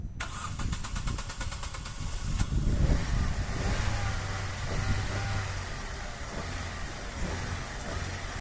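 A car engine cranks with a rapid ticking starter whir for a couple of seconds, then catches and settles into a steady idle, heard close and alone, after the fuel pump relay's pin 85 was wired straight to ground.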